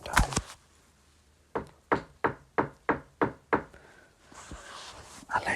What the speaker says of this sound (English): He started knocking on the window.